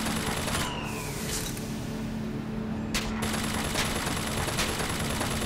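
Sustained automatic turret gunfire in the shooter Bioshock Infinite, a dense, continuous rattle of shots with no break, layered with game noise and a steady hum.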